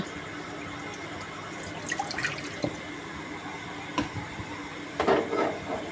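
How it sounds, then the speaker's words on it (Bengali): Water is poured into a cooking pan on a lit gas stove, giving a steady hiss and trickle with scattered drips and a brief splashier burst near the end; no one speaks. "গ্যাসটা এবার আমি অন করে নেব এবারে দিয়ে দেব একটুখানি জল"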